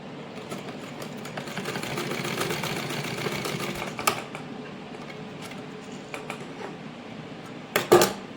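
A sewing machine stitches the edges of a shirt pocket, running in a fast, steady mechanical rattle with brief pauses and a couple of sharp clicks near the end.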